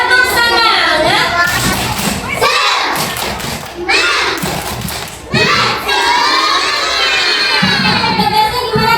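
Children in a classroom or school session shouting and cheering together as a group spirit clap, loud and sustained, with bursts of thumping claps mixed into the lively crowd noise.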